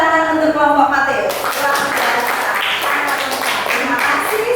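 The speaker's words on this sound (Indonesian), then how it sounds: "tepuk tangan untuk kelompok Mateo" A high school classroom claps for a student group after its presentation, scattered then fuller clapping coming in over a voice that speaks at the start.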